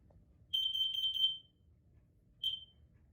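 Kidde smoke alarm beeping in a quiet room: a rapid run of four or five shrill chirps, a pause, then one more chirp, loud and close with nothing else heard.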